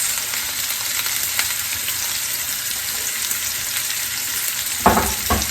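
Sausage browning in a gumbo pot sizzles and fries in a steady, close, even hiss, with a brief louder clatter of stirring near the end; no one speaks.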